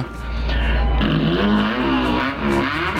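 A voice imitates a car engine with the mouth, a steady buzzing drone that rises and wavers like revving, continuous and close.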